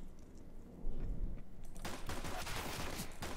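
Dual Berettas fire in rapid, uneven bursts in Counter-Strike: Global Offensive, giving dense crackling shots that start faint and grow steadier and louder across the second half.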